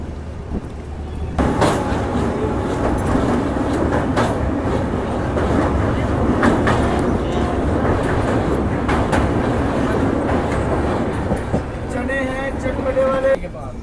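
The Avadh Assam Express, a sleeper-class train, rolls out of Bareilly station with loud rattling and clattering of carriages, heard from onboard amid scattered clanks and a voice talking.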